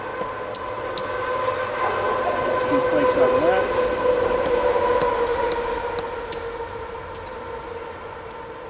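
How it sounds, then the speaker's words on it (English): Steady street traffic rumbles outside, swelling and fading with a droning horn-like tone, while someone talks and sharp clicks come from obsidian being flaked. "A lot of street traffic today, so I apologize for the noise"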